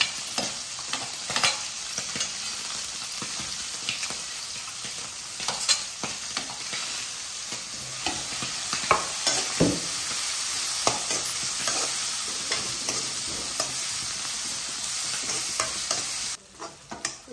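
Onions sautéing in a pan, a steady bright sizzle with repeated scraping stirs of a spoon across the pan, close and alone without talk, cutting out near the end.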